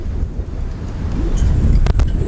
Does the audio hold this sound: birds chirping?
no